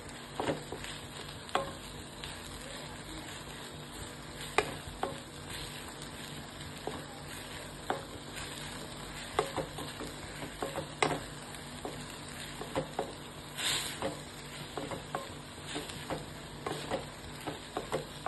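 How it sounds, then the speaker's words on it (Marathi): A spoon stirs an apple modak mixture as it dries in a pan, giving a steady soft sizzle with frequent small scraping taps throughout. "त्याला साधारण 7 मिनिटं लागेल चांगलं ड्राय व्हायला। मी ड्राय करून घेतेय।"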